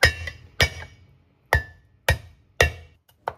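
Sand ginger is smashed on a cutting board with a cleaver, five or six sharp, loud knocks at an uneven rhythm, each ringing briefly before quiet gaps, with no talking.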